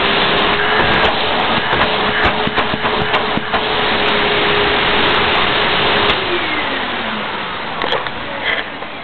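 A vacuum cleaner runs with its brush roll switched off, a steady loud whine and rushing airflow held for most of the stretch, with the motor pitch sliding downward near the end.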